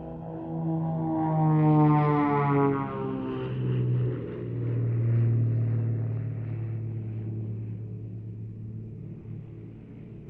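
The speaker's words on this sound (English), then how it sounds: "They are flying ultra high-tech Extrema" An Extrema XA41 aerobatic aircraft flying, a loud droning propeller engine roar with a shifting pitch that swells and recedes as the plane passes, sustained for the whole stretch.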